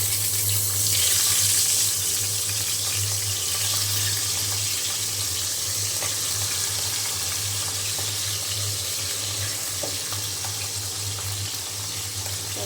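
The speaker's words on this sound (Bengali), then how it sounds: "আমি এখন পাবদা মাছগুলা ভেজে নেব।" Pabda fish frying in hot oil with onion in a pan, a steady loud sizzle and crackle running throughout without a break.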